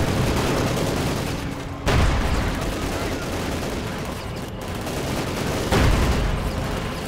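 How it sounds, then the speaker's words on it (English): Gunfire rips into a cluster of infantry in Company of Heroes 2, a dense, continuous rattle of shots with two heavier booming blasts standing out near the start and end, loud throughout with faint voices underneath. "Infantry getting blasted up close there."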